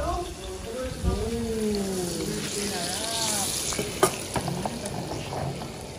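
Hot oil sizzles steadily in a pan while a person talks over it, with a few clinks of a utensil against the cookware.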